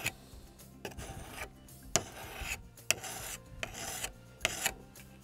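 Rough, rasping strokes of a metal file scrape repeatedly against the blade of pruning shears, each stroke a short gritty burst separated by brief pauses.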